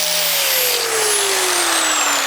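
An angle grinder with a grinding pad removing weld spatter along a metal edge: a loud, close, continuous high whine whose pitch slowly falls as the pad bears down, with a dense abrasive hiss and no voices.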